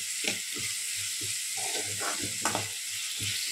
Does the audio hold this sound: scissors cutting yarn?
no